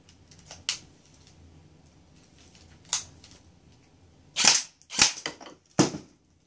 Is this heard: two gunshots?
yes